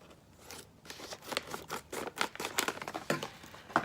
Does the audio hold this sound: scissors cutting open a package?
yes